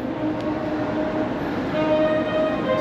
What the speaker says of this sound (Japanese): 電車に乗ります。